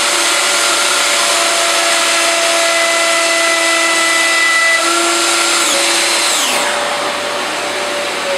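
A Festool OF1400 plunge router cuts a 6 mm deep pattern in wood, a loud steady high whine held for several seconds before the motor pitch drops and spins down near the end.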